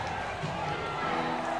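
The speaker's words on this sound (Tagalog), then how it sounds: "listen to this crowd roar" A crowd roars steadily at a semi-final basketball game in Catanduanes, Virac versus San Andres, with a dense, continuous wash of voices at even volume and a commentator talking over it.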